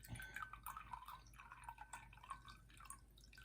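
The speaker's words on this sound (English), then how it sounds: "I'm going to put 4 ounces of cold water" Cold water pouring and trickling into a cup, with light dripping and splashing, close and quiet, steady for a few seconds with no voices.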